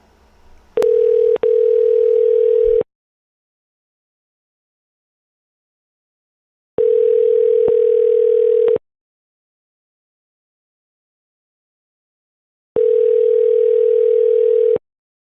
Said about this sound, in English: let's make another call